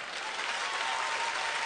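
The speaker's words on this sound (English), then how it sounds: "round of applause" Dense, steady applause from a stand-up comedy audience fills the whole moment without a break.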